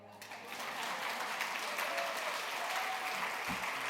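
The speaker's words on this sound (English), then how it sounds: "Applause here." A crowd at a songwriters' awards show in Nashville applauds in a steady, dense wash that swells after the first half second and holds evenly throughout.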